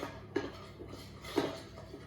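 A spoon clinks against a bowl while stirring icing sugar for a vegan lemon loaf glaze, two distinct faint taps about a second apart over a quiet kitchen background.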